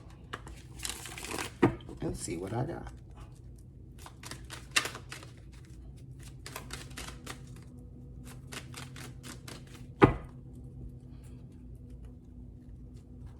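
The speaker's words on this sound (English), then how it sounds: "Let me shuffle these cards" Tarot cards are shuffled in quick riffling bursts and soft flutters, with a sharp snap near the end and a voice speaking briefly.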